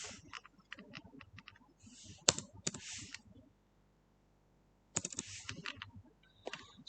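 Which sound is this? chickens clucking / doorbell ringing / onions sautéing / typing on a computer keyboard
typing on a computer keyboard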